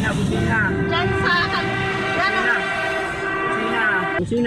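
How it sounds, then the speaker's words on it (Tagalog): A vehicle horn sounds in long, steady blares amid loud, busy street noise, with voices mixed in. "Busina."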